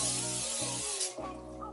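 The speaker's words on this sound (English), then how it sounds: "I'm gonna spray a little more." Short close hiss of butter-flavored cooking spray being sprayed into a Nuwave air fryer, a steady burst lasting about a second, then a softer tail over background hum.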